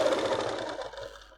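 Sewing machine stitching a seam on palazzo pants, a steady whirring run that is loud at first and fades gradually over a second and a half, with no talk.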